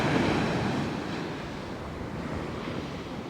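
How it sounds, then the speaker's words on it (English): Strong wind buffets the microphone at a sea shore at Sutton on Sea, with a loud, steady roar of gusts over the surf that eases slightly after the first second, continuous and close with no voices. "It's just the wind that's making it so difficult for me to fish here."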